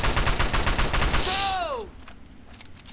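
A fast burst of gunshots rattles off in a Fallout game companion fight, rapid cracks for about a second and a half, then a descending whistling tone and quiet.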